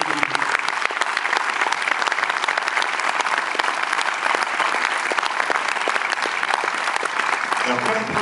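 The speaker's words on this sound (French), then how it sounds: "Merci, vous pouvez applaudir Philippe Claudel." An audience applauds a film director after a screening, a steady, dense wash of clapping sustained for several seconds with no voices over it.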